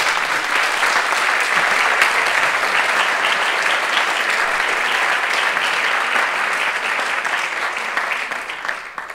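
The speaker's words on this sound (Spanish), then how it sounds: "así que un aplauso para ti," An audience at a journalism ethics award ceremony claps in a sustained, dense round of applause, loud and steady throughout before tapering slightly at the close.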